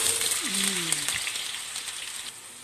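Potatoes drop into hot oil in a pan and sizzle with a steady, bright hiss and crackle, close up, while a voice speaks briefly and a faint tonal hum runs underneath early on.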